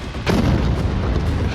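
A heavy explosion from an Israeli air strike on Lebanon, a single deep boom that swells quickly and lingers as a rumbling roar, loud and somewhat distant, with no talk.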